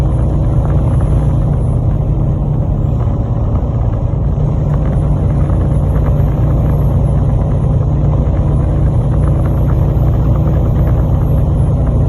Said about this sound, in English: We're riding in a 2020 Peterbilt 579 with a 500 horsepower Cummins and a 10-speed standard transmission